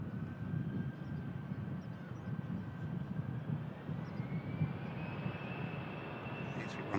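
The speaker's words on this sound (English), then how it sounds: "A319 climbs out." An Airbus A319 jet climbs out after takeoff from Manchester Airport, a faint, distant engine drone with a thin steady whine over low rumble.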